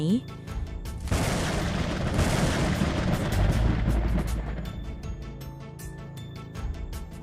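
A single gunshot sound effect bursts loudly in a Thai news report on a Thailand–Cambodia border clash, followed by a long, dense rumble of booming fire that fades slowly over several seconds.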